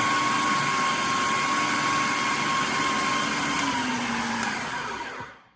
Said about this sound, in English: until it gets really blended and really incorporates with itself.